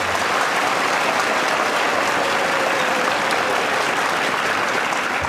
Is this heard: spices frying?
no